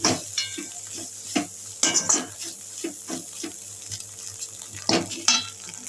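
Paneer stuffing is stirred in a sizzling pan, a spoon scraping and tapping the metal in an irregular rhythm over a steady frying hiss, close and alone.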